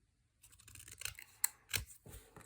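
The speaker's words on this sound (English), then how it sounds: "I'm going to take this one and cut it in half." Scissors cutting a sheet of paper in half for a Christmas explosion box craft, with several close, crisp snips in quick succession in a quiet room.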